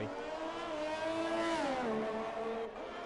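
An F1 race car screams across the finish line during a race broadcast, a loud engine whine climbing then dropping in pitch as it passes, with no talk over it.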